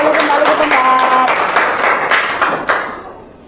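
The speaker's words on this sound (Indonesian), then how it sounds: "Beri tepuk tangan dulu dong untuk kelompok 3 yang sudah maju" A class applauds a student group after its presentation, a burst of mixed claps that begins under a speaking voice and then fades out over a few seconds.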